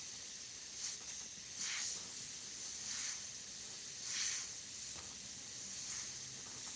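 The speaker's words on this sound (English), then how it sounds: "maybe I can make some of the lines in there just with the airbrush." Iwata airbrush spraying Createx paint onto Claybord, giving short, soft, repeated hissing bursts at close range, fairly quiet, with no talking.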